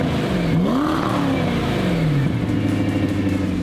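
The engine of a 2006 Ford GT supercar in tungsten gray revs up loudly and nearby, rising, holding and then dropping back to a deep burbling idle, with no talk.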